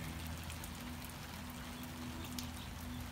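Steady, soft rain falls outdoors by a front-entrance pond where ducklings are, a faint even patter of drops with no break and no voices.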